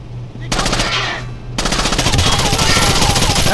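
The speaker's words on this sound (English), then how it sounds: "How the hell was he shooting me?" Rapid automatic gunfire from the Rainbow Six Vegas video game rattles in two dense bursts, loud and close, with a brief pause between them.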